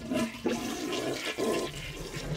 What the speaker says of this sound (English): turning off the water supply valve, and flushing the toilet.